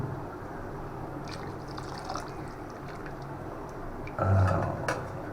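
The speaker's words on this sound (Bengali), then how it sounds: "জলটা দিয়ে দিই একটুখানি মশলা ধোয়া জলটা জলটা ঢেলে দিই" Water used to wash spices is poured into a pot of cooking khichuri, a steady, noisy wash of liquid that swells into a louder splash near the end.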